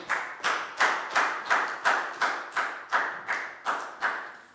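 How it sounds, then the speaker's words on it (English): Year 4 pupils in a classroom clap for a group of classmates. About ten loud, evenly spaced claps land together in a steady rhythm, each ringing briefly before the next one. "And a big round of applause for group 2."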